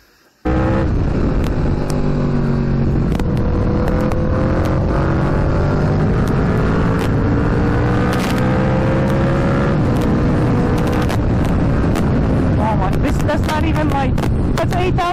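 An Aprilia RSV4 motorcycle engine revs hard and loud up close, its pitch climbing in long sustained pulls with brief dips between, ending in sharp crackling blips; a voice can also be heard.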